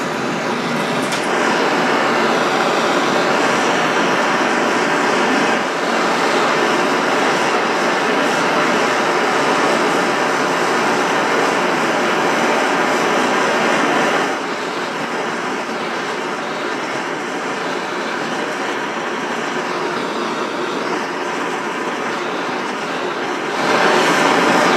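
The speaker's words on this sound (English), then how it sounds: "the tool for this is a standard home DIY propane torch" Standard home DIY propane torch flame heating aluminium, a loud continuous close roar holding steady for the whole stretch, with a slight change in tone partway through.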